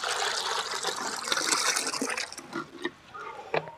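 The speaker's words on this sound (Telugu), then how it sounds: "ఇట్లా ఒక 5 లీటర్స్ వాటర్ని అయితే నేను తీసుకుంటున్నాను" About five litres of water pour into a container for a neem pesticide mix, making a steady splashing gush that thins into trickles and drips near the end.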